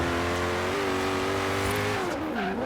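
Koenigsegg Regera engine in Forza Horizon 3 video game, a loud continuous rev holding a steady pitch, then dropping and shifting near the end, with no talking.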